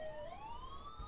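A police siren in a video game, one rising electronic wail that sweeps upward steadily, loud and alone, then ends with a sudden burst of noise.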